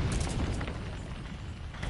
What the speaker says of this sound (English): Okay, random explosion. Second random explosion.